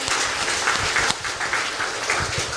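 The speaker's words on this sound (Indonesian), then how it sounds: "boleh berikan tepuk tangan untuk Dr. Weni." Audience applause at a Ministry of Health talk show, a dense burst of clapping that holds steady for a couple of seconds at fairly loud level, with no talk over it.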